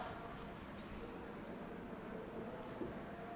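Pen or pencil writing an English grammar example on paper, faint close scratching strokes against a quiet room hiss, with a few light taps and no speech.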